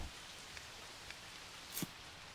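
Steady rain hiss from a farming video game fills the whole stretch, an even, soft wash of falling drops with a few faint brief patters and one sharper tap near the end, with no voices.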